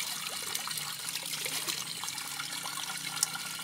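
Drinking water trickles from a bamboo spout in the mountains, a close, continuous dribble and splash with small bright drips, heard alone without talk.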